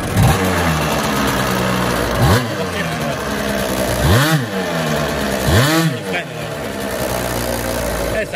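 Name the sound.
Piaggio NRG scooter engine with Polini kit warming up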